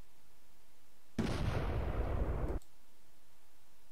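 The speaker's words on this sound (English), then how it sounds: "Blowing a bit of this up." Explosion as a plane is blown up in the Roblox video game, a loud, dense blast of rumbling noise lasting about a second and a half that cuts off sharply.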